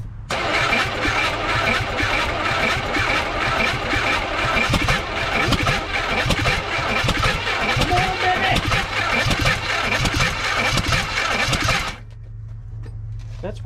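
Rat trike engine cranking over repeatedly with a rapid, rhythmic starter churn, loud and close for about twelve seconds before cutting off, with people talking underneath.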